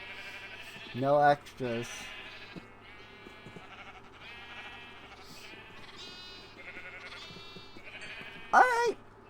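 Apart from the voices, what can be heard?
sheep bleating in a pen, from video game Township Tales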